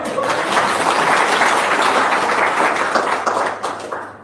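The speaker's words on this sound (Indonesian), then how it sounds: "Tepuk tangan dong." A seated audience at a religious talk breaks into loud, dense applause that holds steady for a few seconds and then thins out toward the end.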